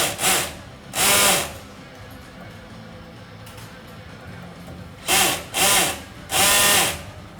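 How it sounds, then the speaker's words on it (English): Short bursts of a power drill whirring on an Expobar Office Lever espresso machine assembly line in Gandia, Spain, two early and three more close together later, with quiet pauses between. "He gets his drill set just right"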